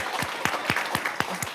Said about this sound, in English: y'all can cheer